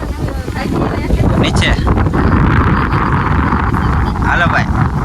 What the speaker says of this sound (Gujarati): વિડીયો માથે પવન બહુ છે ભાઈ. અત્યારે કેટલો પવન ચાલુ છે એકદમ